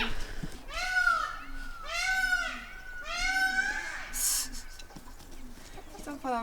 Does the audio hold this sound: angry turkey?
yes